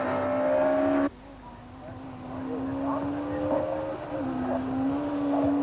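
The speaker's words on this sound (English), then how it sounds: "Hannes struggles to control the Sentra, with blown front shock absorbers making the car's handling very difficult on this bumpy stage." A Nissan Sentra rally car with blown front shock absorbers is driven hard over a bumpy rally stage, its engine droning steadily and loudly, cutting off sharply near the start before rising again with fluctuating revs as it works over rough ground.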